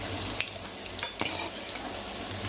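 Dried fish pieces frying with brinjal in a pan for a spicy curry, with a dense, close sizzle and crackle and brief scraping stirs.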